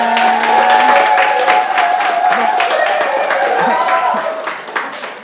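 Audience applause greeting a speaker at a Zenith company seminar, sustained clapping from a crowd with a tonal hum and some voices underneath, tapering slightly near the end.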